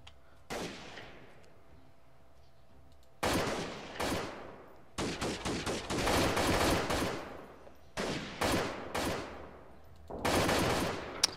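Video-game gunfire in a guerrilla-warfare shooter: loud bursts of automatic fire and single shots in several clusters, separated by short pauses, with no voices.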